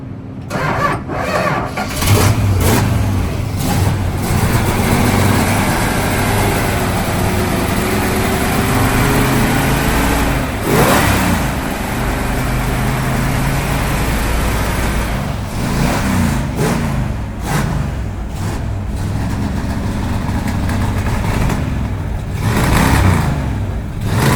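A restored classic car's engine, block free of cracks, starts and settles into a loud, steady running note, with a few revs rising and falling over a continuous close-up idle, no voices.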